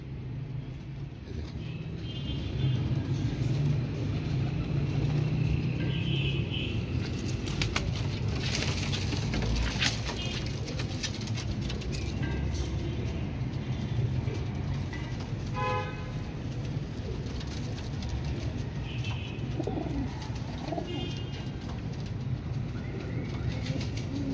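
Pigeons cooing among a loft of paired birds, soft low coos under a steady background hum, with a burst of brief fluttering wingbeats and a few distant vehicle horns toots midway.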